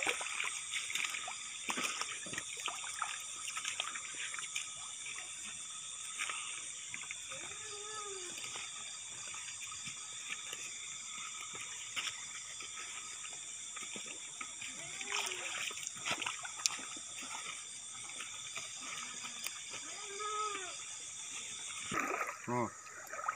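The Cireueuy river flows and trickles in a steady, soft wash of water with small splashes, while people speak intermittently over it.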